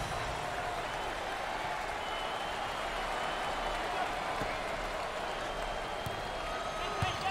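Basketball crowd at a college tournament arena applauding and cheering in a steady, dense roar with no break, while a commentator talks over it.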